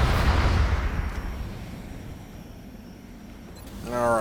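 A heavy gunshot blast with a rumbling tail rolls off in the turn-based game XCOM Long War, fading over several seconds before a voice starts speaking at the end.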